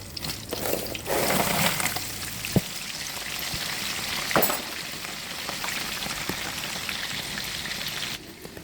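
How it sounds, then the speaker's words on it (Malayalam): Sweet samosas fry in hot oil, giving a soft, steady sizzle and bubbling with a few sharp pops and crackles, close and fairly quiet, with no talking. "ഇതിലോട്ടിട്ട് നമുക്കിതൊന്ന് ഫ്രൈ ആക്കി എടുക്കാം"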